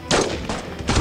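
Three sharp sniper rifle shots from the mobile shooter Sniper Arena, each a loud, close blast with a brief tail, evenly spaced across a second.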